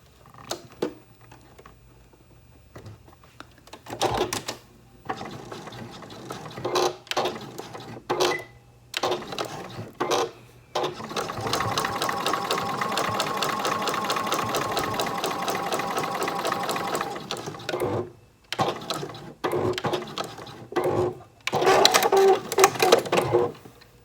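Sewing machine stitching a seam on a scrap-fabric Christmas ornament, running in rapid whirring bursts with short pauses between, including one long continuous run, close and fairly loud.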